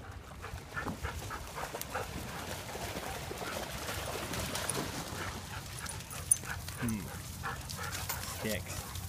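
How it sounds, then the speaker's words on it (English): A dog on a beach walk gives short yips and whimpers close by, mixed with panting and outdoor background noise, while a person talks to it throughout. "Don't bark at me."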